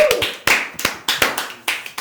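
A small number of people clap for a performer on a TV talk-show set, with several separate sharp bursts of hand claps in uneven groups spread across about two seconds, fairly close and dry, with no talking.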